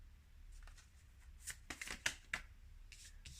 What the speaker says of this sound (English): let's pull some tarot